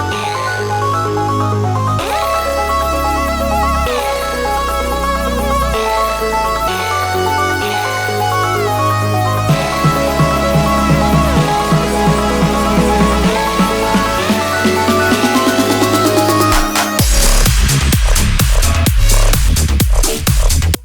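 Arpeggiated synth pattern from a Novation Peak with a subtle delay repeating in the background, playing steadily over sustained bass notes and building into a brighter, denser passage near the end; no talking.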